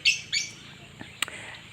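Pet African lovebirds at their nest box give two short, harsh squawks near the start, then a few fainter chirps, against a quiet background.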